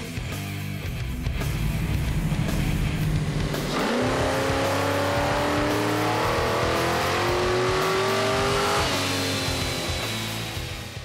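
A 1978 Pontiac Trans Am V8 on a chassis dyno roars loudly and continuously, its pitch climbing steadily through a full-throttle pull, dropping back briefly, then rising again to a high wail before easing off, with no talking.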